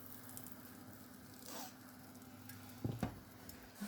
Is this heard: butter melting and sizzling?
yes